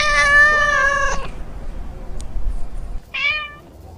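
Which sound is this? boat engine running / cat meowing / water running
cat meowing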